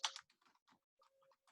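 Several bursts of computer keyboard typing while working on Java LinkedList class code, quick uneven clusters of clicks with short pauses between, close and fairly quiet, with no talking.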